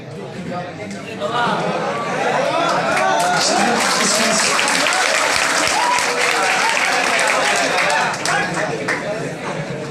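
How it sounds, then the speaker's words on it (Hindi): Students and guests at a school farewell party break into loud, sustained applause, dense clapping from a large room that swells and holds steady for several seconds with scattered voices mixed in. "ताली बजाना है, चालू नहीं।"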